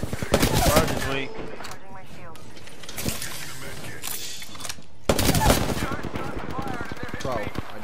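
Rapid gunfire from an Apex Legends match crackles in dense bursts, loudest at the start and again after a short lull, with a voice talking over the shooting.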